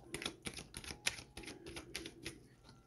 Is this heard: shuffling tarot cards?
yes